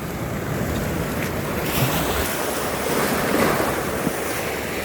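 A wide, flooded river rushes in a continuous broad roar, loud and near, with gusts of wind buffeting the microphone.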